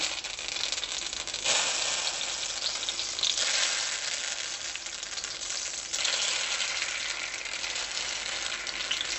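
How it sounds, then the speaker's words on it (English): Sage leaves dropped into hot oil for a beetroot risotto garnish, hissing and sizzling in a steady, dense crackle that swells in bursts as more leaves go in, close and continuous with no talking. "If it splatters and looks really sizzly, we're literally just going to drop them straight in and then fish them out."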